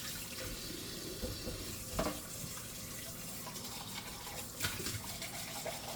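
Tap water runs into a kitchen sink while beans are rinsed, a steady hiss and splash at moderate distance with a couple of louder sloshes, no voices.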